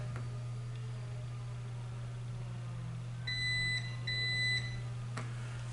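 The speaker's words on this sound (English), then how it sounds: "I heard it beep twice, so the setting should be stored" Two short electronic beeps from a 2023 Volvo XC90 power tailgate confirm a stored opening-height setting, a pair of clear tones over a steady low hum.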